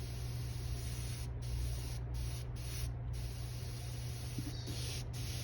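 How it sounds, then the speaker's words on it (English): A Harbor Freight Spectrum Black Widow airbrush sprays water in a continuous close hiss, briefly cut off several times by short trigger releases before resuming. "I like to run either some water or some IPA through them before I start spraying"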